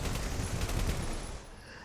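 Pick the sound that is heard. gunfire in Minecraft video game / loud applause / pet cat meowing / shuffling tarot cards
gunfire in Minecraft video game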